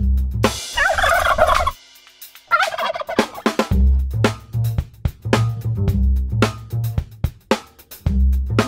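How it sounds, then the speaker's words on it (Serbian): A turkey gobbles in repeated rapid bursts, loud and close, with short pauses between the rattling calls and no talking. "Ćurka."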